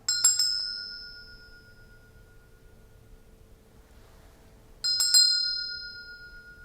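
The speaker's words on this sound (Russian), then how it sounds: "сейчас я еще буду делать этот колокол, эта чаша поющая, чтобы эти звоночки активировать в вашей жизни" A metal singing bowl is struck twice, about five seconds apart, each strike ringing out bright and clear with a shimmering, slowly fading sustain that lingers between hits in an otherwise quiet space.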